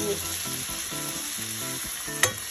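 Shrimp stir-frying in a pan with tomato and coriander leaves, giving a steady close sizzle broken by rhythmic low scrapes of stirring and one sharp clink near the end, with no talk.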